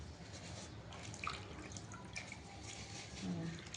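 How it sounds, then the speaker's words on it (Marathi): Pumpkin leaves rinsed by hand in water, with faint, steady dripping and soft trickling splashes and a few small drips standing out, heard quietly and close with no voices. "असे स्वच्छ हे असे व्यवस्थित धुवून घ्यायचे सगळे पानं भोपळ्याचे."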